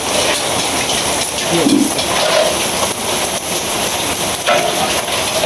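Heavy rain pours down in a loud, continuous hiss, dense and unbroken from start to finish.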